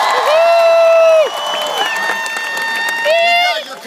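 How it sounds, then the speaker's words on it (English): A large crowd cheers and applauds at a Barack Obama rally in Virginia, loud and sustained, with shouts and whistle-like calls rising over the roar before dipping and swelling again. "a big round of applause for the great introduction"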